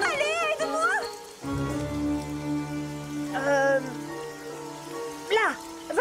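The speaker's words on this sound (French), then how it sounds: "Oh, il pleut beaucoup trop!" Heavy rain pours steadily in an animated pony cartoon, a continuous hiss of falling water beneath a sung or tonal musical line that runs through the scene.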